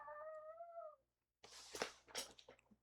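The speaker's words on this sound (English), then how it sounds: "Dog, will you quit whining?" A dog whining at a front porch, a thin drawn-out whimper at first, then after a short silence a rougher run of yelping whines, faint and close.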